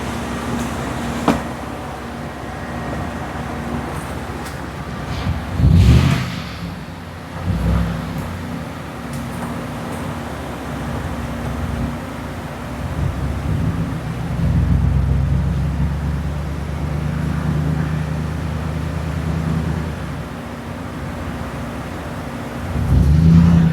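2013 Ford F150 engine running under load in a workshop, a steady low idle rumble that swells several times as the engine is loaded, with brief louder surges and no talk.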